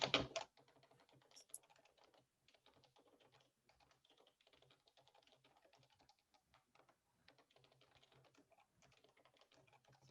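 Close, quick bursts of typing on a computer keyboard while writing code, key clicks pattering in uneven runs with brief pauses, fairly quiet and without talk.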